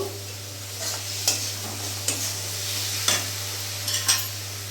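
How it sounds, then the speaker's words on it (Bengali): Chopped tomato stirred into spices frying in a pan for a fig curry, with a constant low hiss and a handful of sparse, distinct spatula taps against the pan; no one speaks. "এবার এরই মধ্যে আমি এখানে কুচনো টমেটোটাও দিয়ে দেবো"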